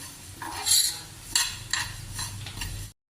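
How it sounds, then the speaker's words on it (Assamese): A utensil scrapes and clinks against a pan in a few sharp strokes over a low, steady sizzle, close by, while frying for a sweet olive pickle. "এতিয়া মই পূৰা ধুনীয়াকৈ ভাজি আছোঁ"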